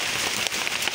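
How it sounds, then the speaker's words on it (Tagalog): Heavy rain pours down outdoors in a steady, dense hiss with scattered louder drop hits, loud and continuous with no voices over it. "Grabe na naman lakas ng ulan"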